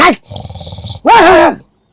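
A human voice imitating a dog: a low rumbling growl followed by a louder, wavering snarl-like yowl, close and brief.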